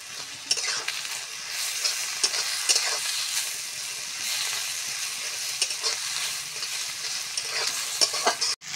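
Dried fish being stirred into frying onions in a pan, a continuous close sizzle with repeated scraping and clinking strokes of the spatula throughout, no voices.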